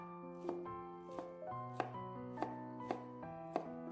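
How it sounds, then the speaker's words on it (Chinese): A knife finely chopping squeezed broccoli on a cutting board: spaced, crisp single chops roughly every half second, close and clear, with faint background music. "挤好之后，放在案板上，用刀切碎，尽量切得碎一点。"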